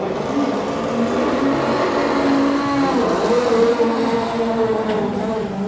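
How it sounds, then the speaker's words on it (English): HKS Nissan R32 GT-R race car engine played back as a recording, a steady droning engine note with a tonal whine that shifts in pitch midway, continuous and moderately loud with little talk. "HKS R32 GTR race car. The most amazing sounding engine."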